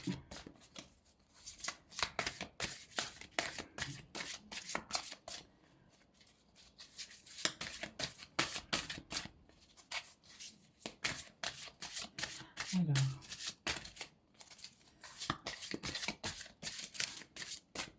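Playing cards shuffled repeatedly by hand for a final card draw, crisp riffling bursts in an irregular rhythm with brief pauses, close and fairly quiet, no speech.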